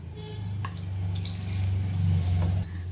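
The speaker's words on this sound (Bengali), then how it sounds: "এরপর আমি এখানে সামান্য জল দিয়ে দেব" Water splashes into a pan of okra curry cooked with butter, a soft, close trickle and gurgle running for a couple of seconds over a low background hum.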